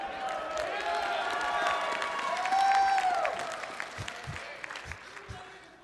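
Applause and some cheering from the audience at a writers panel at a convention, a moderate crowd rising and fading while a voice carries through, with a few louder claps near the end.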